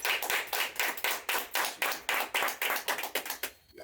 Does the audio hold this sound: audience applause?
yes